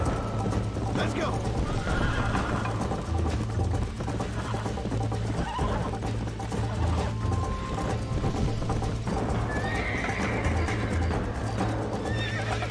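Horse in the Red Dead Redemption game whinnying loudly over repeated clip-clop hoofbeats and steady background game sound, with someone talking at moments.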